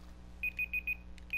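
A kitchen-style timer beeps in a quick run of four shrill, evenly spaced pulses, fairly close, then starts another, over faint steady background static.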